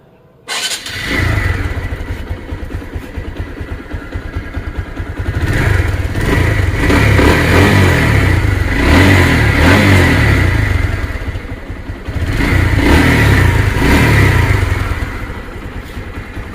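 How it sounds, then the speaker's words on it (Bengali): A TVS Stryker 125cc motorcycle engine starts and runs close by, its steady idle rising in repeated revs, with louder swells around the middle and near the end. "দেখুন রানিং অবস্থায় সাউন্ড দেখুন"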